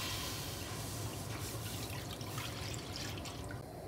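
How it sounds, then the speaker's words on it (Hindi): One litre of milk pours into a nonstick pot with a little water already in it, making a steady continuous liquid rush and splash that goes on for several seconds, heard alone. "साथ ही में इसके अंदर डाल देंगे हम 1 लीटर मिल्क के।"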